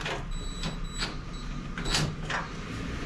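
Metal shave plate on a Craftsman two-stage snowblower scraping and sliding into place, a series of short clanks and scrapes over a steady background drone, close by.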